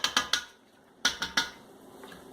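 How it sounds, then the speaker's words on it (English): A spoon clinks against the side of a pot while stirring honey into elderberry syrup, two quick groups of three sharp metallic taps separated by a pause, close and clear. "give it a good stir so it's all mixed up, or your honey will sink to the bottom of your syrup"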